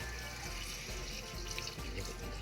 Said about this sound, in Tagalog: Pagkatapos nun, lagyan natin ng tubig.